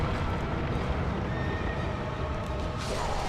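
A horse whinnies in the video game Dark Souls 2 against a dense, noisy backdrop of game sound and rumble, the neigh fairly faint and brief within the mix.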